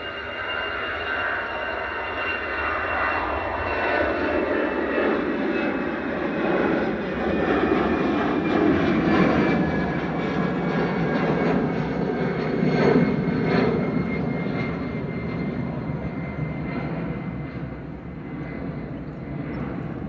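An easyJet jet departs Manchester Airport for Amsterdam with a steady, broad engine roar that holds for about twenty seconds at moderate distance.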